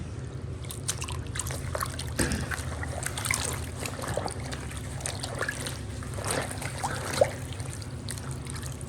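A shirt is sloshed and rubbed in water, giving continuous soft splashing and trickling with a few sharper splashes, close and moderately quiet.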